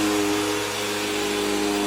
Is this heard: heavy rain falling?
no